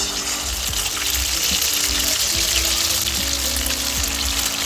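Beaten egg hits hot oil in a pan and fries with a loud, close, steady sizzling hiss, bubbling throughout with faint utensil ticks underneath.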